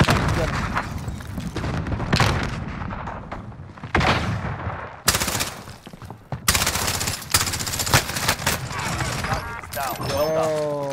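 Gunfire and explosion bursts from a grenade fight in Call of Duty: Modern Warfare, with loud sharp blasts and rattling shots hitting in irregular clusters while a player talks over the action.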